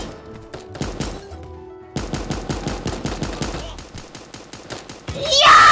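Rapid SMG gunfire from the Super Animal Royale video game, crackling in quick, dense bursts that pause briefly and then resume nearly nonstop, ending in a louder noisy burst.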